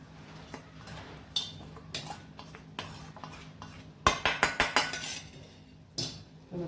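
A metal spoon scrapes and clinks against a pan while potato poha with onions and spices is mixed, irregular taps early, then a quick run of sharp rhythmic knocks in the middle and a few more after.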